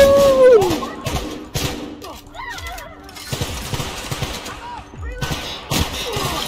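Gunshots and combat effects in The Outer Worlds, a run of sharp shots and thuds at varying distance mixed with whooshing game effects, while someone talks intermittently over the fighting.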